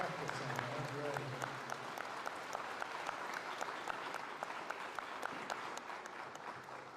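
Applause from a school assembly crowd at a Veterans Day event, greeting the band; dense, moderately distant clapping that holds steady throughout, with faint voices mixed in.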